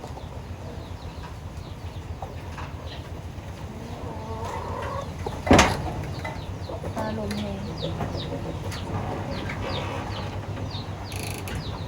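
Chickens clucking and squabbling outdoors on a Lao farm, a busy layer of calls over steady background noise, with one brief sharp burst mid-way.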